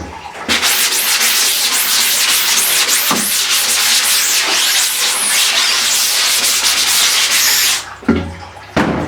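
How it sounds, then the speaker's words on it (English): A brush scrubs emulsion remover on a screen printing screen in fast rhythmic back-and-forth strokes, loud and close, for about eight seconds before a few final brushes. "I'm gonna use my brush just to start loosening things up on both sides"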